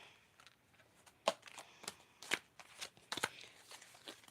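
Tarot cards being shuffled during a reading, a series of quick crisp riffling bursts at close range, fairly faint and mostly alone.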